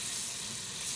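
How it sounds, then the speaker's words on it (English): Butter, two tablespoons, melting in a pan with sausage fat, giving a steady, soft sizzle and hiss, continuous and fairly faint with no break. "Okay, so the butter is melting."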